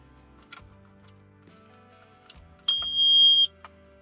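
A loud, steady high-pitched electronic beep from a smoke alarm being tested in a van rings out for under a second after some quiet clicks and handling noises, then stops abruptly.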